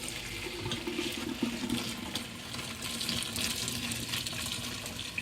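Hot water from boiled spaghetti noodles pours through a strainer into a clean kitchen sink, making a steady, loud, rushing splash that runs for several seconds.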